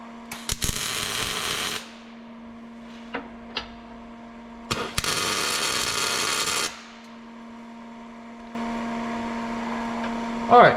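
Tack welding an evap canister bracket onto the rust-repaired frame of a 2007-2014 Chevy 1500: three sustained crackling, hissing weld bursts of a couple of seconds each, separated by brief ticks and clicks, over a steady electrical hum.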